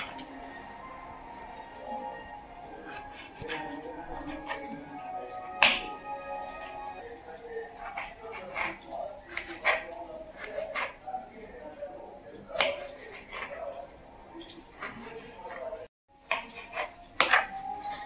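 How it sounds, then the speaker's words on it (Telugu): Tomatoes being chopped with a knife on a board, a run of quick, light taps and clicks at uneven rhythm, close by, with kitchen clatter and a voice speaking over parts of it. "ఇప్పుడు టమాటా కట్ చేసుకుందాం"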